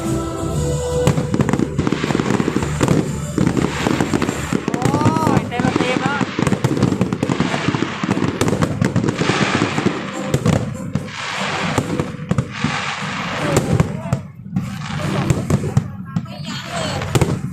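Dense fireworks at the Pattaya 2022 countdown before a concert, with continuous booms, crackles and bursts from a big outdoor display, while a crowd and nearby voices talk and shout throughout.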